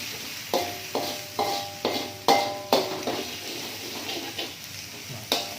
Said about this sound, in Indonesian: Terus dikulah kaleh, diaduk-aduk.